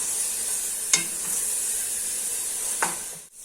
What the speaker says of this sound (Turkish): doğranmış soğanlarımızı ilave ediyoruz